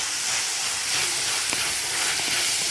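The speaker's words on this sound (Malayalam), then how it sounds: "പച്ചമുളകും സബോളയും ഒന്ന് മൂത്ത് വരട്ടെ കേട്ടോ" Onion and green chillies fry in a pan for a pepper beetroot fry, giving a steady, even hiss and sizzle with a few faint soft taps and no voices.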